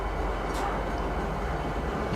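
A tram train rumbles steadily as it pulls into a spaceport in the Star Citizen video game, giving a continuous low rolling drone with faint higher hiss, loud and unbroken throughout.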